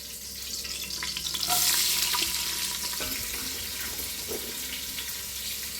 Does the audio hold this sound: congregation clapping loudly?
no